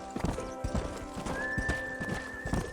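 A horse in Red Dead Redemption on PS3 gallops in with rhythmic clip-clop hoofbeats and a whinny, close and steady over game ambience and a sustained tone, with no talking.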